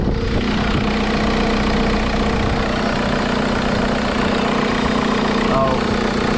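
A VW MK4 TDI wagon's diesel engine idles steadily and loudly up close in a junkyard, with an even low clatter and hum throughout and brief voices over it.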